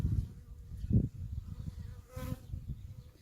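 Bees buzzing around an open beehive, close droning hums rising and fading as individual insects fly past, with low rumbling handling noise underneath.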